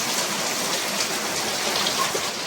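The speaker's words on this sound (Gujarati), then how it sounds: "જો કેટલો આવે છે વરસાદ." Heavy rain pouring down in a dense, steady hiss of drops on surfaces, loud and close throughout with no voices.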